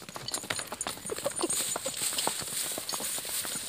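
Horse walking with hooves clip-clopping in a quick, irregular rhythm, close and fairly loud over outdoor background noise.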